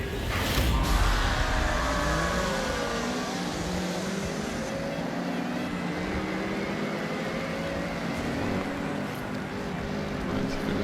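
Cars racing off the start in the video game Forza Horizon 6, a constant roar of engines with rising and falling revving whines layered together, moderately loud and steady throughout.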